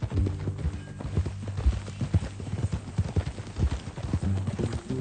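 Horse hooves clip-clop steadily at a walking pace in the video game Red Dead Redemption 2, with close, rhythmic muffled thuds and faint speech in the background.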